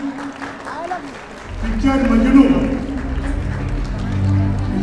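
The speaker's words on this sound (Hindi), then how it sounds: "चाइल्ड आर्टिस्ट का तालियां बजाकर स्वागत करें अभिनंदन करें।" An award-show audience at a Chhattisgarhi film awards ceremony breaks into applause for a best child artist, swelling from the midpoint under a voice talking over it and music.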